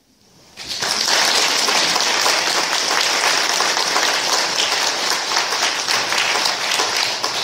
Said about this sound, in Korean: 다시 한 번 박수 쳐주세요